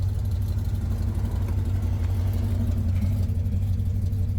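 A Ford Maverick engine idles steadily with the hood open, a continuous low rumbling drone that holds even and close throughout, with no revving and no voices.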